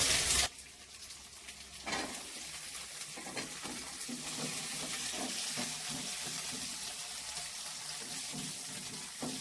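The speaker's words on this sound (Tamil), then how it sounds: "இப்போ இந்த பூண்டு இது கூடவே போட்டு வதக்கிக்கலாம்" Garlic and onion sauté in a pan for a Tamil kuzhambu: a loud burst at the start settles into a steady, close sizzling hiss, broken by irregular stirring taps and clicks.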